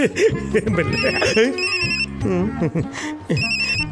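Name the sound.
phone ringtone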